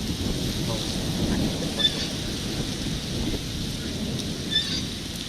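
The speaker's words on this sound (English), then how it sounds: "Hey guys, we're hearing thunder." Thunder during a storm at Bognor, heard as a steady broadband rumble with wind and rain noise throughout, fairly loud and continuous with no clear separate peals.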